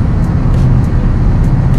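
Interior of a used car cruising on a highway at about 75 mph, a loud steady low road and engine rumble with wind noise, continuous and without talk.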